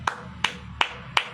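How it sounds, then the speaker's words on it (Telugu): Four separate, evenly spaced hand claps ring out crisply in a church service, each one sharp and distinct over a quiet background with no talking. "చప్పట్లతో వేసేయండి, గట్టిగా కనపరుస్తాం."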